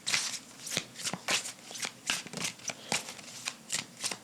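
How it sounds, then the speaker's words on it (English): A tarot card deck being shuffled by hand, with a steady run of crisp riffling bursts repeating roughly every half second, close and clear with no talking. "This deck likes to be shuffled a certain way."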